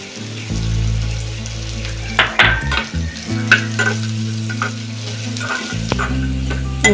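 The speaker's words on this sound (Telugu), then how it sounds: "కొబ్బరి ముక్కలు వేపుతున్నానమ్మా" Coconut pieces fry in a pan for a sweet rice-dumpling dish, a steady loud sizzle with the sharp scrapes and clatter of stirring breaking in now and then.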